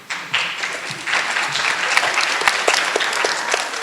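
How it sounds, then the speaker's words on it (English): Sustained audience applause for fourth grade Ready Writing students at an elementary school literacy competition, a steady dense clapping from a crowd lasting the whole stretch. "If we can give our fourth grade Ready Writing students another round of applause."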